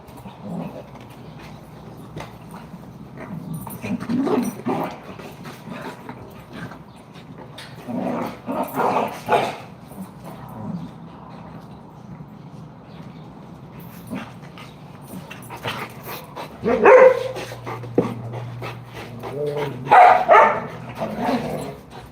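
A bull mastiff barks in scattered deep bursts and yips across a long stretch, with whimpers and panting between them, close by and fairly loud in a quiet room.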